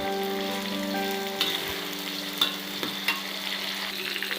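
Garlic and ginger frying in a pan as chopped tomatoes go in for mash daal, a steady close sizzle with a few soft clicks and scrapes of a spoon, no voices.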